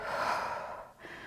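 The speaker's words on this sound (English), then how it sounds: "take a deep breath." One deep, close breath during a Pilates reformer workout, a long airy inhale that tapers off, followed by a brief soft exhale at the end.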